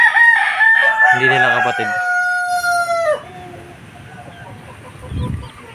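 A 2.5-year-old sweater gamefowl rooster crows loudly and close, one long drawn-out call lasting about three seconds, followed by quieter background sounds and a brief low thump.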